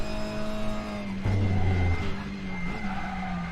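Renault WTCR race car engine in the RaceRoom racing game at the Nürburgring GP circuit, a steady droning engine note that lifts into a louder, rougher burst as it accelerates out of a corner, with a hint of tire scrub.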